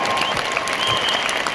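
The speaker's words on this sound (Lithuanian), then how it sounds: "Jūsų plojimai." Applause from a concert audience at the Kaunas 50th-anniversary jubilee concert of the Tautkus brothers' band Rondo, steady dense clapping throughout with a faint tonal note over it and no talking.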